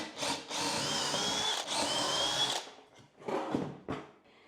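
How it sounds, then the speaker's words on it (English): A power drill with a flat wood bit whines loudly in two long bursts as it bores into brickwork, followed by shorter spurts and rattling handling noises. "just used a flatwood drill bit to drill out a bit"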